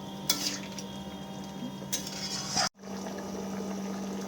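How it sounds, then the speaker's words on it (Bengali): Chicken and potato curry in a pot, with a faint steady bubbling hum broken by a few sharp clinks of a utensil against the pot, then a brief cut before the low simmer resumes. "জাস্ট আর 2 থেকে 3 মিনিট মতো ফুটিয়ে আমি এটাকে নামিয়ে নেব।"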